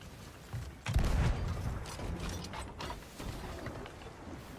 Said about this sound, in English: The last cannonball just went right through.